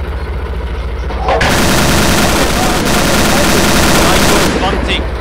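Heavy gunfire erupts and keeps going, loud and dense like a tank cannon and machine guns together, with a voice faintly underneath, in the video game Steel Fury: Kharkov 1942.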